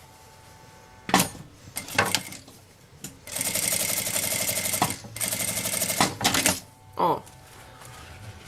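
A sewing machine stitches gathered, ruffled fabric for a notebook holder, running in close, loud whirring bursts of rapid stitching between short pauses and handling clicks, with a brief spoken word.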